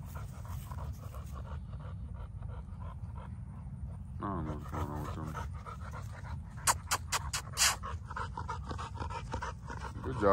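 Muscular dogs pant in rapid, steady breaths close by, with a brief whimpering, whiny passage in the middle and sharper yelps or barks near the end, over ongoing outdoor background noise.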